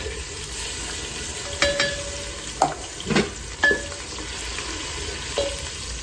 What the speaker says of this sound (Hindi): अब इसमें हम प्याज डाल देंगे